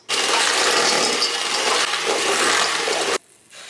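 Dense, vigorous bubbling and fizzing of dry ice in an ice cream base fills the clip, a loud continuous hiss of gas churning through liquid that cuts off abruptly near the end.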